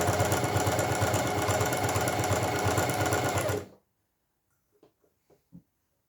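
A sewing machine stitching a fabric seam on a boxy zipped pouch runs in a loud, steady, rapid whir for several seconds and then stops, leaving near silence with a few faint clicks.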